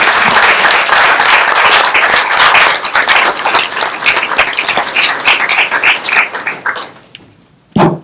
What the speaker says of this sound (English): give Miss Esther a round of applause.